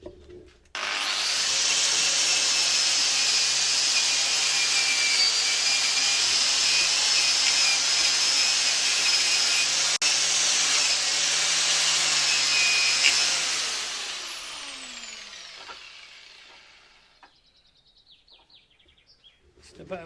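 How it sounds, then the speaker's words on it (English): A flap disc sander smooths metal on a David Brown 996 tractor draw bar, a loud steady high-pitched whine held for about twelve seconds before spinning down and fading out. "That flap disc sanders make the metal nice and smooth,"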